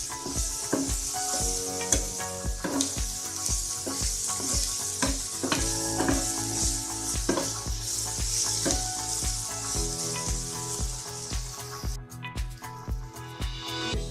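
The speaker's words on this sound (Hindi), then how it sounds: "मिर्च और लहसुन डाल देंगे। अच्छे तरह से भून देंगे।" Chilli and garlic frying in a pan for brinjal bharta, a loud, continuous close sizzle broken by regular scraping stir strokes across the pan, with no voices.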